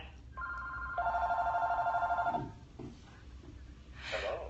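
A telephone rings for a radio call-in show, one long warbling electronic trill lasting over a second, loud and close, followed by quiet breathing and rustle before a brief voice.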